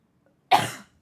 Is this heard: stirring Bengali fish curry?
no